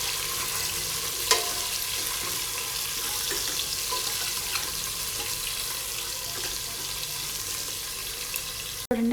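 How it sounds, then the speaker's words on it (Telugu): Red chilli crackles in a pan of hot oil for a tadka while cooking dosakaya pappu, a steady close sizzle with occasional sharp pops and a clatter near the end. "రెడ్ చిల్లీ యాడ్ చేసిన తర్వాత ఈ తాలింపు అంతా కూడా గోల్డ్ కలర్ వచ్చేంత వరకు ఫ్రై"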